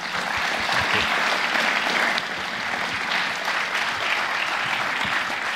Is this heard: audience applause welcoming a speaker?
yes